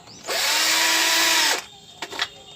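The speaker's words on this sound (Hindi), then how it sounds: "और एक वुड में होल करके दिखाते हैं।" A Bosch cordless drill bores a hole in wood with one loud, steady high whine lasting just over a second, then spins down, followed by a couple of faint clicks and knocks.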